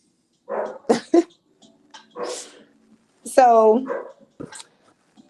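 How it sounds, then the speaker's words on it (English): A dog barks and whimpers a few times nearby, with a short yelp and one drawn-out whine, mixed in with a person talking. "There's a dog in the background."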